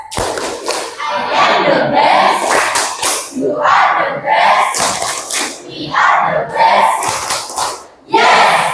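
A classroom of students claps and chants together in unison, loud rhythmic bursts of voices and hand claps repeating several times.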